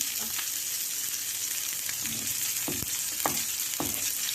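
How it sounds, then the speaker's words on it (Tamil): Large vanjaram (seer fish) frying in masala with curry leaves: a constant dense sizzle with several spatula scrapes and knocks spaced through, loud and close, with no one speaking. "பெரிய சைஸ் வஞ்சிர மீன் வறுவல் சூப்பராக ரெடி ஆகிடுது"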